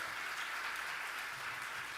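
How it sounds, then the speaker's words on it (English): An audience at a tribute dinner applauds a radio and TV morning-news guest, a soft, even patter of clapping heard from a distance that holds steady throughout without a break. "Round of applause for Dean Richards as well."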